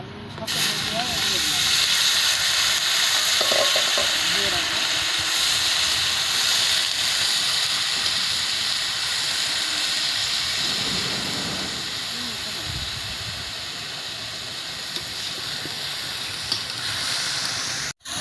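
Cabbage with chili and onion fries in a pan with a loud, close, continuous hissing sizzle that eases slightly partway through.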